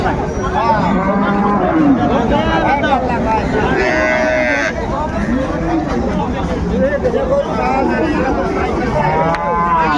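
Sahiwal cow and calf moo repeatedly in drawn-out calls amid a noisy crowd at a cattle market, with people talking nearby.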